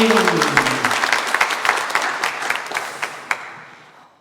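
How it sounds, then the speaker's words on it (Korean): A church congregation applauds during a worship service, dense clapping that starts full and gradually thins and fades out, with a brief voice at the start. "다시 한번 우리 힘차게 하나님께 영광의 박수 올리겠습니다."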